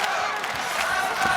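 A packed arena crowd at Dynamite!! 2009 chants for the fighter Masato in the third round against Andy Souwer, a steady loud roar of many voices with slight swells.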